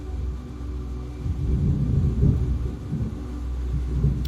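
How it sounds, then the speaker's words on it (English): Low, rolling thunder rumbles steadily outside, a deep continuous roar that swells in the middle and lingers without any voices. "now I got the god of thunder out there, Thor"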